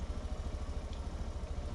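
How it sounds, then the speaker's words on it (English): A Grizzly four-wheeler's engine idles in an even, pulsing chug, a quiet and steady mechanical throb heard alone. "Just a good sounding 4-wheeler."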